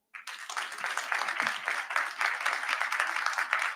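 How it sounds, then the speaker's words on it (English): Audience applause for candidates at a district council forum, a steady wash of clapping from many hands in a room, moderately distant, with no talking over it. "Let's give a round of applause to our lovely, lovely candidates"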